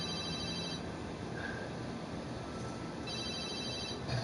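A telephone rings in a room, two bursts of electronic trilling separated by a pause, heard at moderate distance over a constant background hiss.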